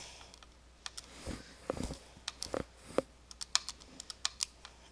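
Sparse keypresses tap out numbers on a calculator for a unit-conversion problem, close and crisp, irregular single clicks that grow quicker toward the end, with no voices.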